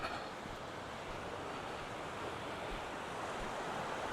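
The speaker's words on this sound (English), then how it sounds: "I hear the river." A steady, even rush of a river flowing at a creekside campsite in Buena Vista, Colorado, a soft continuous roar with no breaks, heard at a moderate distance.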